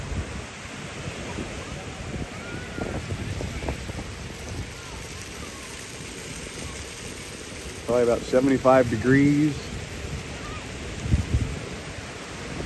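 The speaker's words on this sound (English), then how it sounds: "Nice waves coming in. Nice breeze too." Ocean waves at Daytona Beach wash steadily onto the shore under a gusty breeze buffeting the microphone, with someone talking briefly over the surf.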